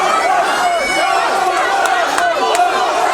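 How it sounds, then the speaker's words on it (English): Loud wrestling arena crowd roaring and chanting together, a dense sustained wall of voices with rising shouts, heard close and filling the whole moment. "Crowd saying one more time."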